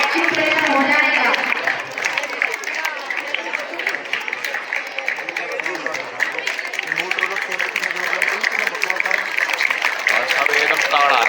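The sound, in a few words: audience applauding the chief guest at a school function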